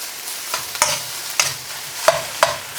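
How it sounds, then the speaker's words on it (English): Vegetarian fried rice tossed in a pan over high heat, a steady sizzle broken by several sharp scraping stirs of the spatula, close and fairly quiet. "And keep your heat on high from now on in. Okay. And keep it moving. If you keep it moving, it won't burn."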